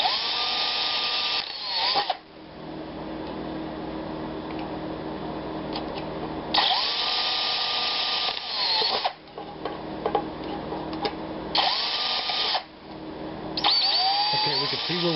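A power drill bores holes around the bottom ring of a metal wood gas burner in four separate whining bursts of about two seconds each, close and loud, with quieter rattling and handling in between.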